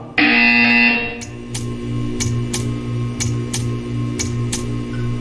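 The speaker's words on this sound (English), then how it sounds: "You will hear a buzzer." Buzzer in the Portal 2 video game, a loud sustained electronic tone lasting about a second, followed by a run of regular sharp ticks over a low hum.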